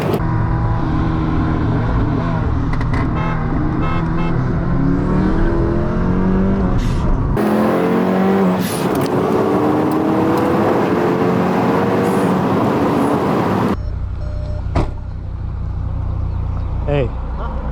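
A turbocharged Scion FR-S races a Stage 2 Volkswagen MK7 GTI, with loud engines revving and accelerating through rising gears in a steady, roaring drone recorded from inside a car, and voices talking over it.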